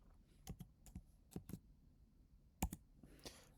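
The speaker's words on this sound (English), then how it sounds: "I'm typing this in" Quick bursts of computer keyboard typing, a handful of sharp clicks in an uneven rhythm, close and fairly quiet with no talking.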